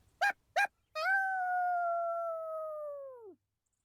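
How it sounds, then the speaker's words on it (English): A coyote in a video game lets out two short sharp barks, then a long steady howl that holds for about two seconds before sliding down and fading, alone and fairly close. "He howls and barks"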